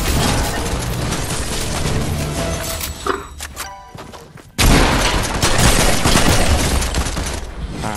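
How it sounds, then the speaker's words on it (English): Machine gun fire in the Fortnite video game, loud dense bursts of rapid shots with crashing impacts, broken by a brief lull of mechanical clicks before another intense volley. "A machine gun."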